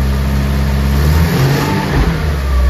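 Car engine revving loudly and steadily up close while the driver works the clutch and releases the handbrake, with a low droning tone and no talking.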